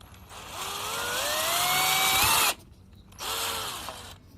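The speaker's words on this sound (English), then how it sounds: "I'm gonna drill my hole in here, hopefully." A power drill whines steadily, its pitch climbing as it bores into a 2018 Chevy Cruze during an install, then cuts out abruptly before a second shorter burst of drilling.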